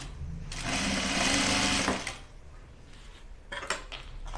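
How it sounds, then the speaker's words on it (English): A sewing machine stitching a quarter inch seam whirs in a fast, loud burst for about a second and a half, then stops, followed by a few quieter clicks and handling sounds. "I'm just gonna sew this at a 1/4 inch seam allowance."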